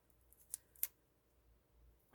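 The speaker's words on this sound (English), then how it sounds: "These ones I can cut with regular scissors." Regular scissors snipping through plastic plant stems, two quick crisp cuts a fraction of a second apart in a quiet room, followed by a brief rustle at the end.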